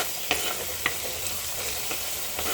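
A spoon stirs asafoetida powder into sizzling crab curry masala in a pan, steady frying hiss broken by a few sharp scrapes and taps of the spoon against the pan, no voices.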